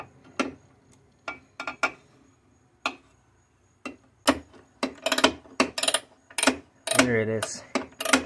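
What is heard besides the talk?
ratchet turning a bolt on a Craftsman table saw motor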